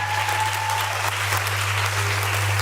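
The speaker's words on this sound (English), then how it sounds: "Please give them a clap" An audience claps continuously in a dense, even patter, loud and sustained throughout, with a steady low hum underneath and no talking.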